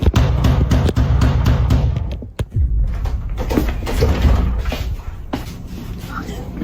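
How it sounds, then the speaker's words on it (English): A man bangs on a house door in a rapid series of loud thuds, then a single hard hit, followed by muffled noise and scattered knocks, with voices talking underneath. "I actually have a clip of this dude banging on the door"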